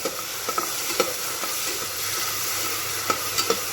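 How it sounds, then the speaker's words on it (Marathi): Ginger paste masala stirred in a hot frying pan while cooking a cowpea (chavli) bhaji, with a steady sizzle and sharp scraping spoon clicks at irregular moments throughout. "आलेलं असं पेस्ट टाकलेली आहे हे चांगल्या पद्धतीने आपण असे हलवून घ्यायचं आहे"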